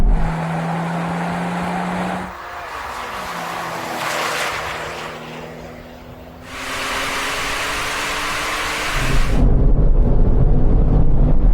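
A Porsche 911 Turbo S and a sleeper Skoda Superb launch side by side in a drag race, their engines roaring loud and close, with a rising rev, a brief dip at a gear change, then a renewed hard pull.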